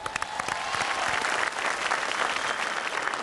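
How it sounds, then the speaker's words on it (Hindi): An audience at the Max Stardust Awards 2012 gives dense, steady applause, with a few sharper claps standing out at the start. "तालियां।"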